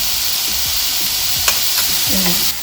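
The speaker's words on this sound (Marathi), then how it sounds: "हे आता परतून घेणार आहोत कंटिन्यू हलवायचं" Boiled mixed vegetables for veg Manchow soup sizzle steadily in a hot pan while a spatula stirs and scrapes them with soft, irregular knocks.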